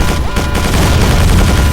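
Loud missile launches in the video game Quake 4, a rapid burst of booming, crackling blasts that nearly saturate the sound, close and overwhelming.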